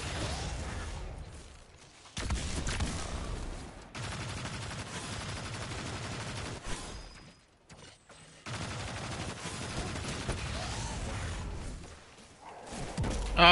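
Sustained bursts of enemy gunfire in a Destiny Nightfall mission on The Devil's Lair strike, dense and loud, dropping out briefly around two short pauses before resuming.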